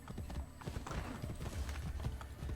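Horse hooves clip-clop in a steady, close rhythm in the video game Assassin's Creed Brotherhood, with a dense ambient game soundscape underneath.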